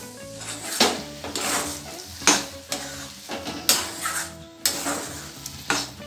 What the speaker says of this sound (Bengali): এটাকে এবার আমি নাড়িয়ে নেব